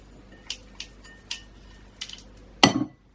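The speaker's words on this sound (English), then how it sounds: "add all of our butter to our large mixing bowl, followed by our caster sugar" Butter and caster sugar go into a large mixing bowl while making gluten-, lactose- and yeast-free cupcakes: several light clinks and taps, then one heavier close thud with a short rattle near the end, with no talking.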